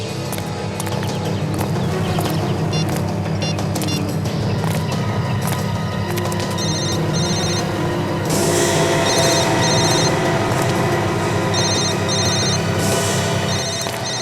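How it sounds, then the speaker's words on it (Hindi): A mobile phone rings repeatedly with a bright electronic ringtone during a tense police search on a TV crime drama, playing steadily over a busy background of low music and ambience, with the ring getting louder partway through. "विवेक, जरा उसको फोन लगा।"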